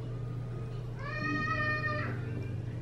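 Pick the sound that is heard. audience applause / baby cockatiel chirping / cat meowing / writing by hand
cat meowing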